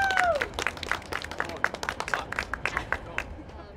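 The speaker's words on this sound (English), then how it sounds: "Can we all give a round of applause for our lovely actors" A small group applauding actors on a film set, scattered hand claps at an uneven rhythm that thin out toward the end.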